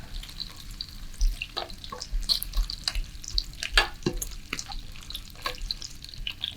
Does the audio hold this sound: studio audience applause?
no